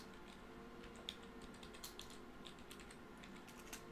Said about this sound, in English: type in Howard Stern